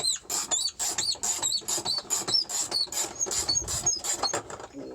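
A wrench works a brass nut loose on pool equipment, giving a steady run of rhythmic squeaky, grinding bursts, close and fairly loud, with no talk over it.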